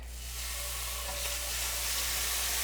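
Garlic sizzles in a hot pan while cooking cherry balsamic chicken, producing a steady, close hiss that builds slightly, over a low background hum.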